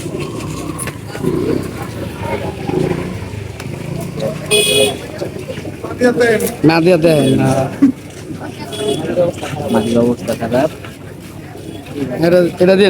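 Giribaz pigeons at the Tongi pigeon market coo and flutter amid a busy crowd, with loud, close talk running throughout and a brief car horn toot partway through.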